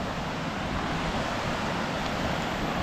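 Mountain streams flowing through open alpine terrain on a loop hike to a lake, a steady broadband rush of moving water heard continuously at moderate distance, with no voices.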